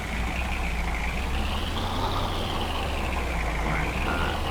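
A vehicle engine in Farming Simulator 19 drones loud and continuous, its pitch rising and falling gently as it revs, with no talking.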